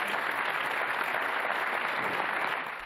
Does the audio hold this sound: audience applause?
yes